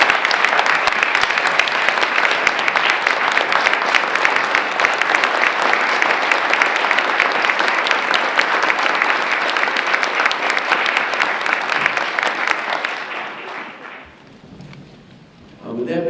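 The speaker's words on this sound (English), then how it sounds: "the city clerk, again, deserves a well round of applause, him and his staff, for an outstanding job." An indoor audience at a city inauguration ceremony gives sustained, dense applause that holds for about thirteen seconds, then fades into scattered claps and murmurs.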